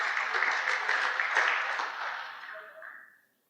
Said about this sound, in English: let's give him a nice round of applause there